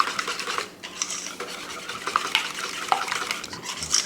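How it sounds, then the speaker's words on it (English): A whisk beats French toast batter with bourbon, sugar and vanilla in a bowl, a steady close scraping and swishing with a few light metallic clicks against the bowl, no voices. "Just give that a whisk."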